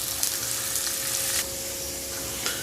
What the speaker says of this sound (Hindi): ये प्याज हमारा हो गया है 2 से 3 मिनट भूनते हुए तेज आंच में।